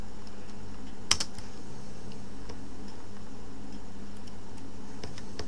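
Light typing on a computer keyboard, scattered soft key clicks with one sharper tap near the start, faint against a quiet room hum.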